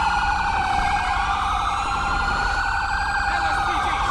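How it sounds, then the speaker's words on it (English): A police car siren in the GTA 5 game, patrol car of a city patrol mod, wails continuously with a loud, rising and falling electronic tone that fills the whole stretch without any speech over it. "That's probably my siren still going off."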